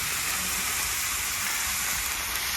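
Steady, loud sizzle of kanthari chilies and garlic sautéing in hot oil, a continuous close frying hiss with no pauses and no voices.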